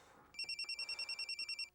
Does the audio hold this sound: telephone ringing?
yes